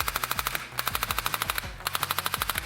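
A PNAR Nerf blaster fires on full auto in three quick strings of rapid, evenly spaced mechanical shots. Each shot is a sharp, close snap, with brief pauses between the bursts.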